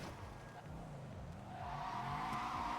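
Car engine roaring with tires squealing and skidding in a video game, a steady high-pitched screech building toward the end, with faint game-like background sound.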